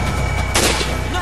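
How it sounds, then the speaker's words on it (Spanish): A single gunshot fires in the Resident Evil 5 video game, a sharp broadband burst partway through, ringing briefly over steady game background hum. "Disparo limpio."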